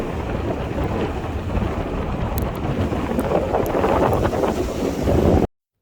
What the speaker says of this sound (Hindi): कितनी ज़्यादा हवा चल रही थी उस दिन